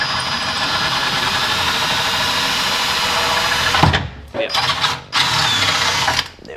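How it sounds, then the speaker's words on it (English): A power drill runs steadily while boring out filler from a bolt hole in a classic JDM mini's rear subframe, a loud continuous whine that cuts out and restarts in short bursts near the end. "we're just going to drill it from the bottom just to clean it up"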